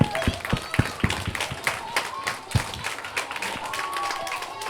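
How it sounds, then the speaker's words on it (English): Audience clapping at a school spelling bee for 2nd and 3rd graders, a steady round of applause with sharp individual claps over a crowd murmur. "Round of applause for Gavin."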